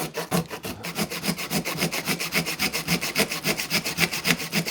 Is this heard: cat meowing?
no